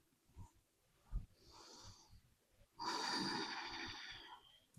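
During a hip and lower back yoga stretch, a person breathes audibly: soft breaths and a brief thump give way to a long, loud, airy exhale that holds steady close to the microphone.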